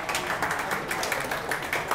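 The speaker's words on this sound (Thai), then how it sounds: "ขอเสียงปรบมือกลุ่ม11หน่อยนะครับ" An audience applauds group 11 at an event: steady, dense clapping from many hands throughout, moderately loud and a little distant.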